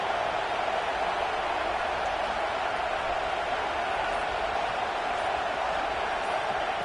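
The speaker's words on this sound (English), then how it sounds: "listen to this crowd noise" Loud, steady roar of a packed college football stadium crowd at LSU's home field during an LSU vs Texas game, a dense continuous wash of noise with no breaks.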